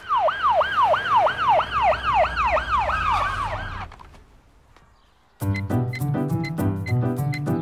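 An ambulance siren wails, sweeping up and down in fast repeating cycles for a few seconds, then fades out before other sounds take over.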